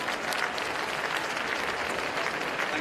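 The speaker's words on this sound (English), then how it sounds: "A round of applause, please, for the moderator who never gets the credit." Steady audience applause for a moderator at a press event, dense continuous clapping filling the room at an even level throughout.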